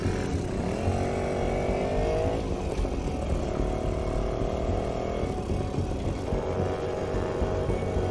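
A video game motorcycle engine drones and revs continuously, pitch climbing and shifting as it accelerates through gears, loud and steady with no talking.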